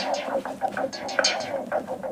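Short bursts of breath, heavily processed with compressors, echo and distortion, pulse in a quick uneven rhythm, sounding synthetic and close.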